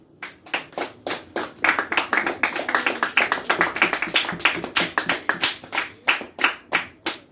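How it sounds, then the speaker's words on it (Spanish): A church congregation claps for the Lord during a Spanish-language service, a few sharp claps building into a dense burst of many hands, then thinning back to spaced, rhythmic single claps. "Denle un aplauso al Señor"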